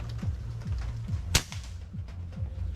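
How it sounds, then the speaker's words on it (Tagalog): A pellet air rifle fires a single sharp, close crack midway, over a steady rhythmic background ticking and hum outdoors on a shooting range. "Pero isang pellet pa. Firing."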